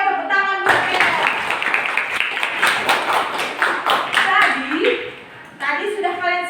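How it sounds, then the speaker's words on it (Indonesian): A classroom of children clapping for a classmate, a burst of quick, uneven handclaps lasting several seconds between a teacher's speaking voice at the start and end, with some kids' voices mixed in. "tepuk tangan buat Theo"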